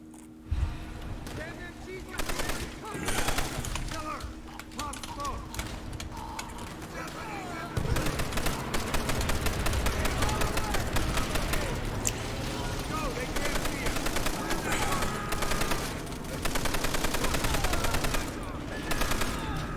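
Rapid bursts of .30 cal machine gun fire from the Call of Duty: World at War video game, loud and continuous with a denser stretch in the second half, mixed with game explosions and a player talking over it.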